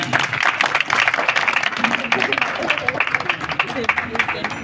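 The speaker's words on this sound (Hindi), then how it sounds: "तालियां बजा दें ज़रा उनके लिए बेटा" An audience at a coaching centre's anniversary event applauds Sir Arif Alam, a steady rattle of many clapping hands with voices talking over it.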